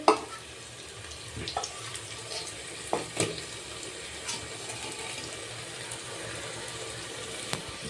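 Garlic and ginger paste frying in a pan for a mutton curry, heard as a soft, steady hiss and sizzle with occasional scrapes and light knocks from stirring, close by and fairly quiet, with no talking.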